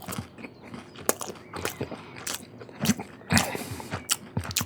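Someone eats close to the microphone, with crunchy bites and chewing in an irregular rhythm, loud and intimate with no talking.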